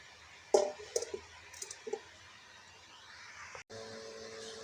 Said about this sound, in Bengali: চুলাটা অন করে দিই।